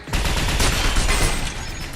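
Dense, continuous gunfire from the video game Binary Domain: overlapping shots and bursts fill both seconds at steady, close, loud volume with no talk.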